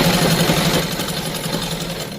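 A sewing machine stitches salwar fabric in a dense, fast mechanical whir, loud and close, running continuously for a couple of seconds alone.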